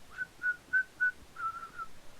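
A person whistles a run of short, bright chirping notes, evenly spaced and then quicker, imitating a bird, close and clear with no talking.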